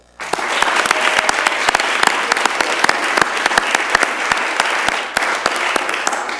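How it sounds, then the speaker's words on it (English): Audience at a school board of education meeting breaks into steady, sustained applause for student athletes, a dense wash of many hands clapping close and loud for several seconds. "If we could take a moment to give them a round of applause"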